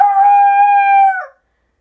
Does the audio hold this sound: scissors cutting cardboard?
no